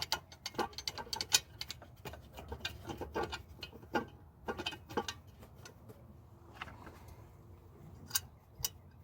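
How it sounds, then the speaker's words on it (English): Ratchet wrench clicking rapidly in bursts as a bolt is driven into an intake manifold, close and crisp, with short pauses between runs of ticks. "I'm gonna put this bolt in."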